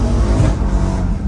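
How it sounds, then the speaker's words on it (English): A car drives along with its engine revving, a loud, close rumble that swells and eases over a short stretch on the way to a camping area. "Driving to the Ule's new camping area right now."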